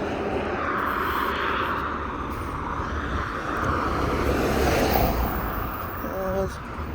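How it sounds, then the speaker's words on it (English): An airplane drones overhead on a city street in Birmingham, UK, as a steady, broad roar that swells slightly and then eases, with no talking. "No, plane is coming now."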